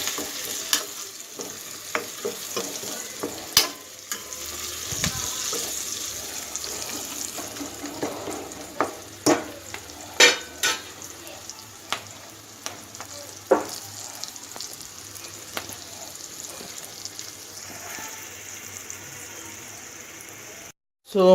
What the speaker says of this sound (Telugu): వేసుకొని ఉల్లితో పాటు కలుపుకోవాలి